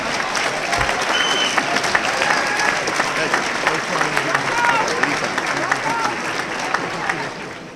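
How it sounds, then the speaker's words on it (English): A dinner audience at an alumni celebration gives a round of applause, a full, steady roll of many hands with scattered voices and cheers woven through it, easing off slightly toward the end. "Let's give him a great round of applause for joining us this evening."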